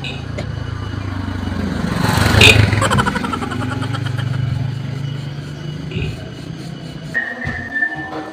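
A motorcycle engine runs and revs nearby, swelling and easing over several seconds, with people talking over it.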